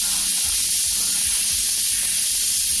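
An airbrush sprays paint with a steady, continuous airy hiss that runs unbroken from start to finish, close and fairly loud, with no voices.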